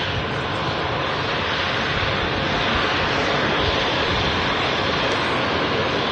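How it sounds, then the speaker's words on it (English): An Air Portugal Embraer airliner arriving from Lisbon comes in to land at Manchester Airport, its broad, loud engine roar holding steady and close for the whole stretch, with no voices. "This Air Portugal Embraer 1905 coming in from Lisbon"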